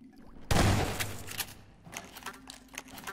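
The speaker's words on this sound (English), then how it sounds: "I know I'm shooting them all" A loud burst of gunfire shooting at enemies in the video game Half-Life 2, then a series of lighter, scattered shots and clatter that fade toward the end.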